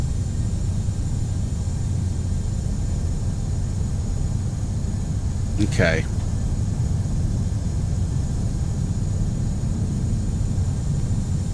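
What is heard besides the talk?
aircraft engines ramping up in Prepar3D flight simulator video game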